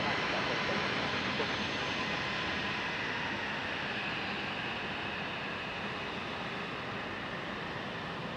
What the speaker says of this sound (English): This one here is our U.S. Airways coming in from Charlotte.